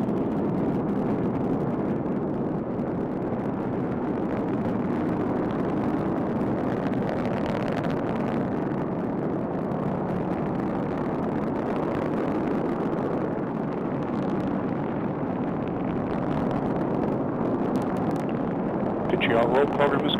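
A rocket's booster engine roars through the TDRS-L satellite launch, a loud, steady, dense rumble that holds unbroken for about twenty seconds, with a sharper crackle near the end.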